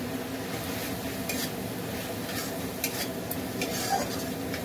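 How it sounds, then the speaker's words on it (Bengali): Green chillies and ground coriander fry in a pan with a continuous close sizzle and scraping stirs, plus occasional light metallic clinks, with no talk. "আর একটু ভেজে নেবো আমি।"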